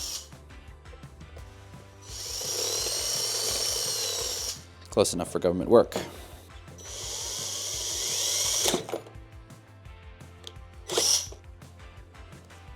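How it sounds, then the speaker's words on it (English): A power drill side-cuts a part for a custom shop heater thermostat, with two sustained whining bursts up close separated by a brief clatter, and someone speaks briefly near the end. "And I'm just going to go try and do a side cut with the drill."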